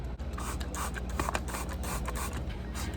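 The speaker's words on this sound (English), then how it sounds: "Using a spray bottle to get the parts that are stuck onto the pot" Spray bottle misting water onto a plant pot to loosen stuck soil: a series of short, hissing spritzes in irregular quick succession, fairly close and moderately quiet, with no talking.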